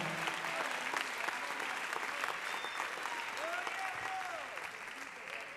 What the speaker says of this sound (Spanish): Si lo cree, dele un fuerte aplauso en esta hora y alábele a Él.